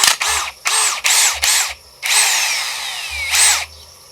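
AEG BSB18BL-0 cordless drill bores into a piece of hardwood firewood in several short whining bursts of spinning up and down, then one longer run with falling pitch, close and loud.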